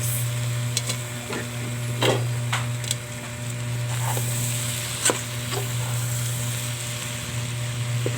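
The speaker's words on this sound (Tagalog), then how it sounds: "Mix lang natin dyan guys. Para magisa yung ating green mungo beans at saka pork." Green mung beans and pork being sautéed and stirred in a pan, giving a steady low sizzle with a handful of sharp utensil scrapes and clicks against the pan.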